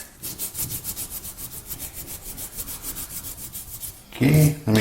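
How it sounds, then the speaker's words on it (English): A gelcoat paste repair is sanded by hand in fast, even back-and-forth rasping strokes, close and steady for several seconds before ending in a brief clatter of handling. "let me finish this sanding"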